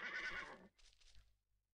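A horse neighs in a stable inside the riding-school video game Die 3 Freunde von der Reitschule, a loud whinny of about 0.7 seconds followed by a fainter trailing snort and soft clip-clopping.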